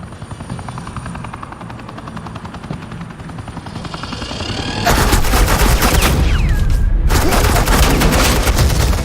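Suppressing gunfire in the Batman Telltale series: a helicopter drones steadily, then a loud, continuous burst of rapid gunfire erupts midway and keeps going to the end, close and dense.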